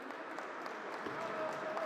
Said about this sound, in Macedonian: Аплаузи на отворена сцена за Андреј Антевски.